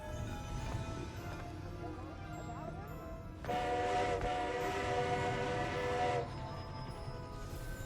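A train passes in a video game, rising to a loud, sustained tonal horn-like passage in the middle before dropping back to a steady background rumble.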